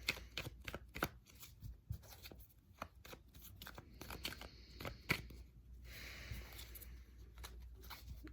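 Tarot cards being shuffled by hand, with quiet crisp riffles and taps in irregular bursts, close and soft with no talking.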